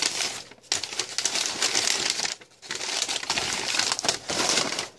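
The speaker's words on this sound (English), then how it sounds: "Wrapped up the paper." Paper crinkles and rustles in bursts as it is wrapped around a thermos from a 1981 Strawberry Shortcake lunchbox, close and fairly soft, with two brief pauses between handlings.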